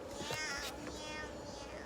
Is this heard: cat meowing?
yes